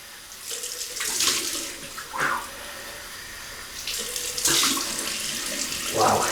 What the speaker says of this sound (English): we're going to cold water rinse and keep the face wet because we're using alum today